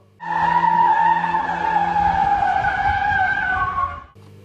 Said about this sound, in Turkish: 32 ACL 120 plakalı Tofaş marka otomobil kavşakta drift atarak trafiği tehlikeye soktu.